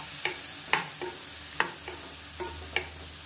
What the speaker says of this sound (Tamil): இதையும் சேர்த்து நல்லா பரட்டி விட்டுக்கலாம்